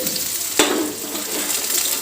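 Red chilli, green garlic and ginger frying in oil, a continuous loud close sizzle with a couple of sharp stirring scrapes punctuating the steady hiss.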